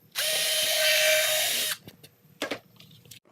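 A power drill bores through wood while building a bat box, a loud steady whine lasting about a second and a half, followed by a few short clunks and handling noises.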